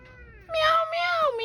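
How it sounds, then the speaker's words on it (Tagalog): A cat meows several times in quick succession, drawn-out and insistent cries that are loud and close, with no talking over them. "Meow, meow, meow, meow."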